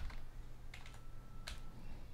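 A terminal command typed on a computer keyboard under Linux Mint: a few short clusters of crisp key clicks with quiet gaps between them, close and fairly soft, over a low steady hum.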